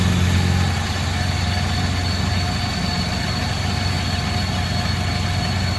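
An old Lincoln car engine with a distributor ignition idles close by, a steady, even rumble with a faint ticking texture running on its own without talk.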